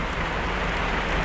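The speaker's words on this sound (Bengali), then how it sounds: "আর বৃষ্টি কিন্তু ক্রমশ বাড়ছে ধীরে ধীরে," Rain falling on a launch in the Sundarbans forest, a dense, even hiss of drops that stays loud and unbroken throughout, with no talk.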